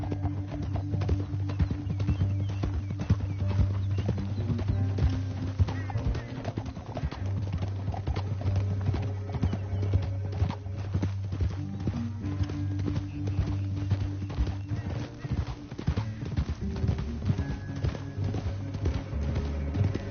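Steady clip-clop of horse hooves at a brisk, even rhythm in the video game Red Dead Redemption 2, fairly close, continuing throughout with faint background ambience.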